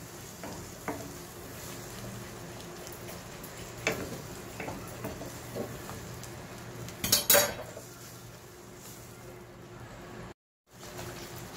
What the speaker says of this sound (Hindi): अच्छी तरह से मसाले को हम सौटे कर लेंगे।